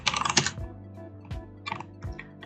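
Bursts of computer keyboard typing as code is written for a Streamlit web app, a rapid cluster of clicks followed by sparser keystrokes, close and clear with no talking.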